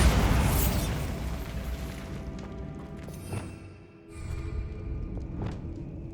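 A Bombarda spell explosion in the Hogwarts Legacy game bursts loud at the start and rumbles down over a couple of seconds, followed by fainter crumbling thuds and debris settling.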